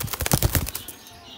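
Giribaj and Madras pigeons flap their wings in a quick flurry of close, loud wing beats at a pigeon sale in Ichapur, West Bengal, then the flapping fades into quieter background noise.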